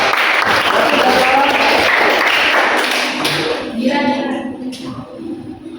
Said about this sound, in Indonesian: Tepuk tangan buat Gavin dong.